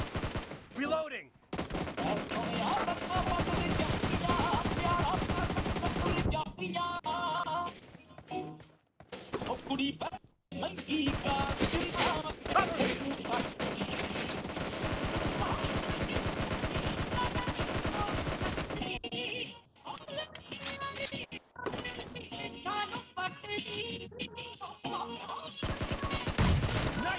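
Gunfire in PUBG Mobile team deathmatch, loud, dense automatic bursts and rapid shots filling most of the stretch, with brief gaps and voices calling out over the shooting.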